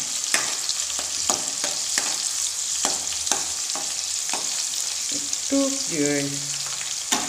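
Panch phoron spices and garlic fry in hot oil, a steady sizzle broken by repeated scraping stirs, with someone briefly speaking near the end.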